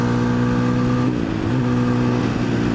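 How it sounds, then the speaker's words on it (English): A motorcycle's TBR7 exhaust gives a steady, low engine drone with a deep rumbling note, continuous and fairly loud, with slight shifts in pitch as the revs change. "The exhaust on it's really not all that loud."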